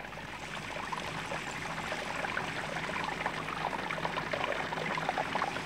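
Stream water runs down mountain slopes in a steady, dense rushing roar that holds an even level from start to finish, with no voices.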